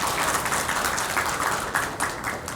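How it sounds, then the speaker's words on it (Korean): Applause from a crowd welcoming guests, among them the Seoul mayor, at the opening ceremony of an exhibition on French Nazi collaborators; steady, dense clapping at moderate volume throughout, with no talk over it. "일단 박수로 맞아주시고요"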